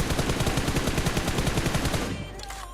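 Rapid automatic gunfire from a video-game gun without a grip, a continuous loud close burst of about two seconds before stopping abruptly into faint game background.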